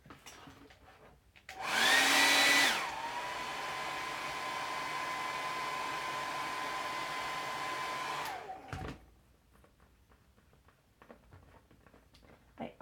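A heat gun runs on vinyl wrapped over a craft pumpkin, starting with a loud surge and settling into a steady close blowing whir for about six seconds before cutting off.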